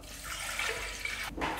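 Water poured into a mixing bowl holding crumbled yeast and sugar for soft toast bread dough, a steady close splashing pour lasting under two seconds with a brief break near the end.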